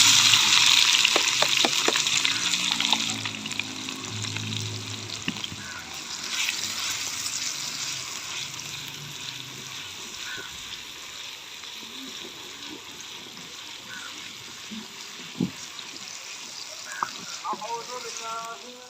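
Low, steady sizzling hiss of onions frying in hot ghee, with a few soft clinks and scrapes of a utensil throughout.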